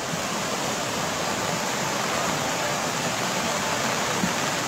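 A creek in the Santa Fe neighborhood of El Progreso, Honduras, swollen by Hurricane Iota, gives a loud, continuous broadband roar of rushing water with no breaks and no voices.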